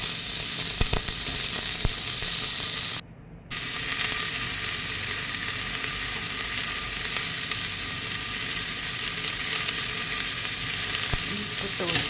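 Onions sauté in a pan with salt. A loud, dense, continuous sizzle fills the whole clip up close, cut off by a brief silence early on, then resumes with occasional faint stirring ticks and no talking.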